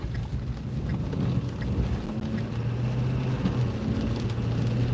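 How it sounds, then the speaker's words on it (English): Steady rain falls and hisses on surfaces outdoors in wet, cold weather. The wash is constant and fairly loud, with a low rumble underneath and no voices. "It's like the rain's starting to let up a little bit."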